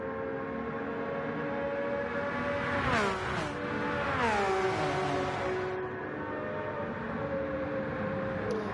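A Porsche and a McLaren F1 race cars in the Gran Turismo racing game scream past with high engine whines that sweep sharply in pitch through gear changes, loud and continuous, with no voices.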